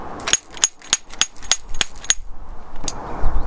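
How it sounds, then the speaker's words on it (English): A hammer strikes solid cave rock about eight times in a quick, even rhythm, each close, sharp blow leaving a bright high ring, followed by a short pause and one more hit. "You're looking for a high-pitched ringing noise that tells you that the rock quality is solid."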